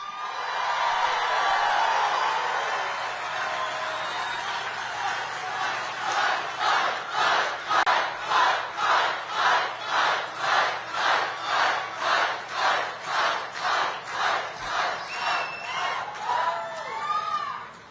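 A large political rally crowd in Glendale, Arizona roars, then breaks into a loud rhythmic chant of repeated shouts in steady pulses, cheering throughout and ending with whoops.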